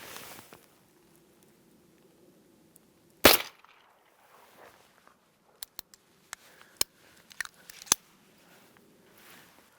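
Several sharp reports from a .45 Colt revolver loaded with snake shot, fired at paper 30 feet away: one loud bang early on, then a quicker scattered string of shots spread over the second half, with a faint low hum underneath.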